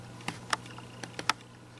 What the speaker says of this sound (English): I'm going to just type it up on my screen so y'all can see.